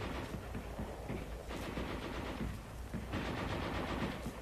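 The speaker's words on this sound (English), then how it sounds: "Each squad leader is near his gun, constantly observing its fire." Heavy machine guns fire in a 1944 infantry attack, a dense continuous rattle of rapid bursts that blurs into a steady roar with no clear pauses, heard without any voices.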